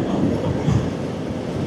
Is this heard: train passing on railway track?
yes